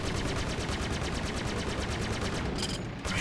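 Rapid sustained machine-gun fire striking a ship's shields in Star Citizen, a loud, fast, even stream of impacts filling the clip, briefly broken near the end.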